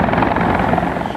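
Helicopter carrying passengers toward Manhattan, its rotor and engine roar loud, steady and close with a dense, rhythmic chop throughout and no voices.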